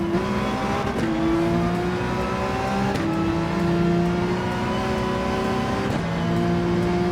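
A Porsche 911 engine in Gran Turismo 7 revs steadily and loudly in third gear. The pitch rises and falls across gear changes about every three seconds while the car slides through a race.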